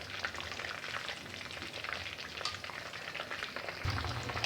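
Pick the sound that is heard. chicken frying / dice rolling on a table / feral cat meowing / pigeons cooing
chicken frying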